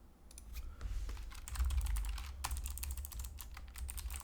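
Typing on a computer keyboard gives quick, irregular clusters of crisp key clicks, close and fairly quiet, with a soft low background hum.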